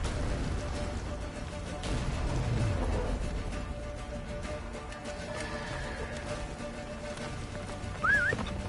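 Roach the horse gallops in The Witcher 3 during a great battle, steady clip-clop hoofbeats and occasional whinnies running throughout over a dense game soundscape, with a brief higher squeal near the end.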